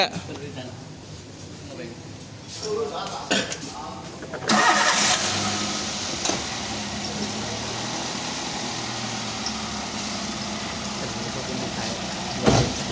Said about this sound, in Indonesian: hidupkan mesin dan AC.